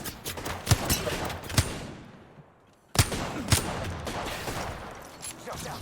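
Dense rapid gunfire in a shooter video game, repeated bursts of shots with sharp louder cracks, a brief lull then renewed firing, close and loud with a player talking.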